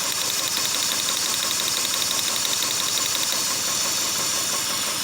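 A four-cylinder engine runs on only two cylinders, idling roughly with a steady, dense rumble and knocking vibration, close and loud, along with a thin high whine.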